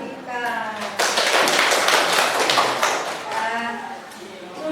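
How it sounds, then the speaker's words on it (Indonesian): A classroom of students breaks into a burst of clapping that starts abruptly, holds dense and loud for a couple of seconds, then fades, with a voice talking before and after. "tepuk tangan buat Mbak Ayu dan Mbak Vika"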